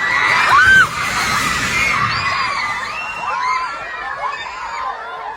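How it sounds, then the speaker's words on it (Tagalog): Residents scream and shout during a magnitude 7.8 earthquake in Mindanao, a loud chorus of panicked voices with a sharp cry near the start, then a steady crowd din of overlapping yells that fades slightly. "Rinig na rinig ang mga sigaw ng mga residenteng nakasaksi at nakaranas ng pagyanig."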